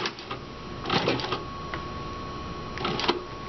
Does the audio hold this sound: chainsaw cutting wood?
no